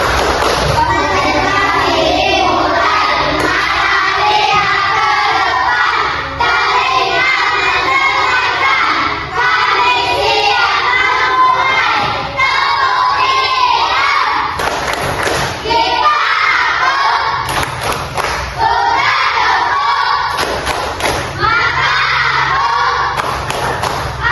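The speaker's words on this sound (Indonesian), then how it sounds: "Ayo kita mulai. Tepuk konsentrasi." A class of children performs the concentration clapping chant in an Indonesian classroom. Loud, close group shouting comes with rhythmic claps and thumps, and the crowd of voices stays continuous for the whole stretch.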